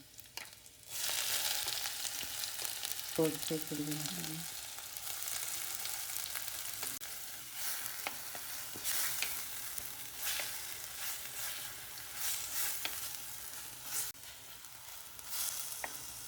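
Chopped ginger and garlic frying in a pan for a thick Kerala ginger curry, a steady close sizzle that jumps louder as the ginger drops in, with occasional stirring scrapes throughout.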